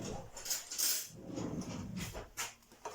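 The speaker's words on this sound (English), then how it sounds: "Give it a quick stir" A spoon clinks and scrapes around inside a cup of hot chocolate made with hot water and cocoa nibs, giving several quick metallic taps and swirls up close, with no talking.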